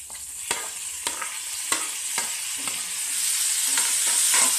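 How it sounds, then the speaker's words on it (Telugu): Tomato pieces sizzling in oil in an open pan after onions, for a bottle gourd tomato curry, with a steady bright hiss and a spoon scraping and stirring at regular intervals, close and alone without voices. "టొమాటోస్ వేసి బాగా కలిపి ఒక 2 నిమిషాలు ఇట్లాగా ఓపెన్ ప్యాన్లో కొంచెం ఫ్రై చేయాలి"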